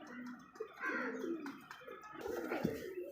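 Pigeons coo repeatedly in soft, throaty rolling calls, close by, with several overlapping birds and no talking.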